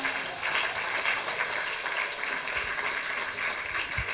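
A church congregation clapping to acclaim the Lord, steady sustained applause from a crowd throughout, moderately loud with no talk over it.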